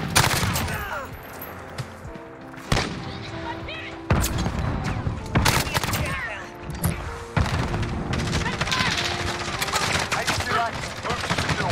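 Gunfire in the game Call of Duty: Modern Warfare, with repeated loud bursts and booming shots in uneven clusters, some near and sharp, others duller, over continuous background game noise.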